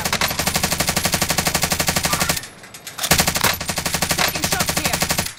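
Rapid automatic bursts from a Stoner LMG machine gun in Warzone, a loud, close, evenly spaced hammering of shots that pauses briefly midway and then resumes at the same fast rhythm.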